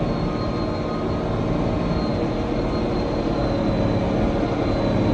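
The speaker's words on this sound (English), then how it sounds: "You can hear the tractor lugging down as we get more crop going through the chopper" A heavy tractor engine lugging under load while harvesting hay through a chopper drones continuously with a deep, strained rumble and steady broadband roar, loud and close, with no pauses.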